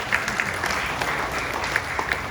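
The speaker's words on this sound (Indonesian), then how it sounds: "Tepuk tangan dulu." An indoor audience at an education ministry gathering applauds steadily, dense hand clapping that holds at an even level throughout.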